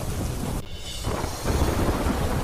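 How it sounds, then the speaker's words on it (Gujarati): Heavy night rain with thunder in the Ambaji area: a dense steady wash of downpour with a deep rolling rumble that dips briefly and then swells back, moderately loud, no voices. "મોડી રાત્રે ગાજવીજ સાથે વરસાદ વરસતા રસ્તા પાણી પાણી થયા."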